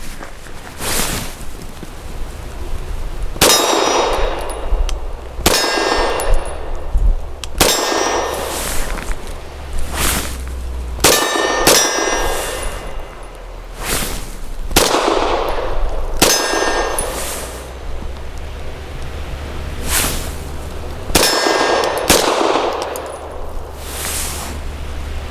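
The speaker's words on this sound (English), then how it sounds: "I like to hear the steel ring" Shots from a Walther PDP 4-inch compact pistol, each followed by a bright metallic ring off steel targets, fired at an irregular pace of singles and doubles, about a dozen sharp clangs over steady outdoor background.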